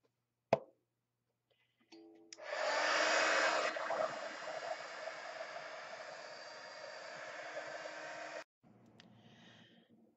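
A heat tool or hair dryer blows steadily for about six seconds to dry wet paint on a painted piece, a loud continuous airy whoosh that cuts off abruptly, with a small knock beforehand and no talk.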